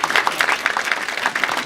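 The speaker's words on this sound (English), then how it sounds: "So let's give them a round of applause as well." Brief burst of audience applause at a language school's 50th anniversary celebration, steady moderate clapping from a crowd, heard alone for under two seconds.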